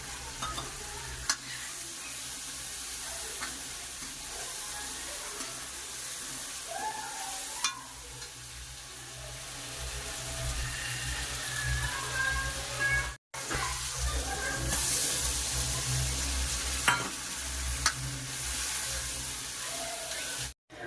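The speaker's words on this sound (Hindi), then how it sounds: "ये मटर जो छिली थी ये धो कर रख दी थी, अभी मैं डाल देती हूँ इसमें।" Washed shelled peas tipped into sizzling masala in a home kitchen pan, followed by steady stirring and scraping with a continuous fry hiss, two brief dropouts breaking the sound.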